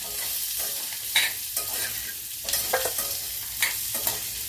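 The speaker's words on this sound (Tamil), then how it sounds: "இது ஒரு அஞ்சு நிமிஷம் வதங்கணும்" Small onions sauté in a pan for Tamil-style thokku, a steady soft sizzle broken by repeated scraping stirs of a spoon.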